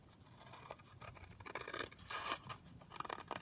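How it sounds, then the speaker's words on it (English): Scissors cut out a paper pocket tag, a soft run of snipping and rustling strokes that grows slightly busier toward the end, heard quietly and close with no talking. "so I'm just going to cut this out now"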